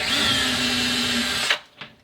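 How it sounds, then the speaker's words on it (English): Power drill boring pilot holes into wood while building a cabinet-style rack, a steady loud whine running close up before cutting off abruptly, followed by a couple of brief knocks. "I took a drill and we're drilling pilot holes."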